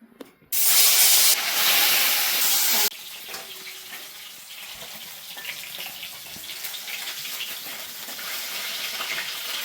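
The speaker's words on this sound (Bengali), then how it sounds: "মাছটা ভাজবো এবারে আমি" Fish dropped into hot oil in a home kitchen pan: a sudden loud burst of sizzling that cuts off after a couple of seconds, then a softer, steady frying crackle continuing close by with no talk.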